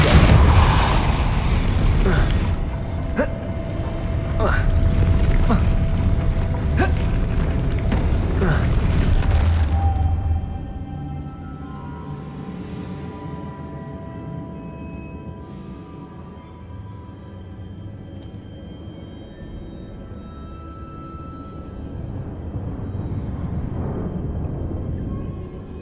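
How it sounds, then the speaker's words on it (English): Spinning stone mechanism raising a platform in Hogwarts Legacy, heard as loud grinding, creaking and booming clatter for about ten seconds, then a quieter rumbling settle with faint later knocks. "Making this spin ought to raise that platform."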